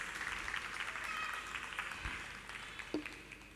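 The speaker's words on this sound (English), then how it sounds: "A round of applause for them," Audience at a Bharatanatyam dance performance applauding the accompanying musicians, a soft, steady patter of clapping from a hall crowd, fairly distant and even throughout.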